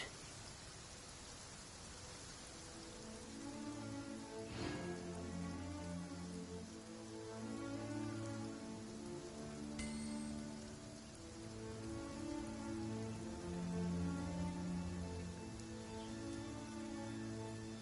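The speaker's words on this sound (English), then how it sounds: "It's raining again." Steady rain falling in the open world of the game Genshin Impact, a continuous hiss of drops on surfaces that runs the whole stretch, with soft background game music tones underneath.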